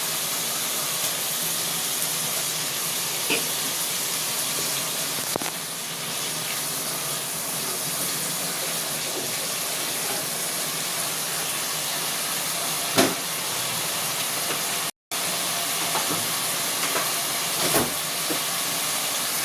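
Fish for a spicy fish curry hits hot oil in a pan, producing a loud, continuous hiss that holds steady throughout, with a few faint pops and one brief dropout.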